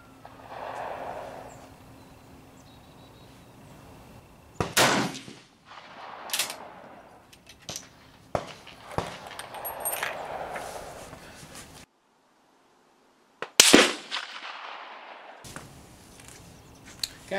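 Several sharp rifle reports from a rifle with diopter sights ring out at a shooting range, spaced irregularly, with breathing and handling noises in the quiet stretches between shots.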